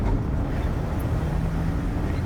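VW T25 van with a swapped 1900 engine driving, a loud continuous engine and road drone with heavy wind rumble inside the cab, steady throughout with no talk.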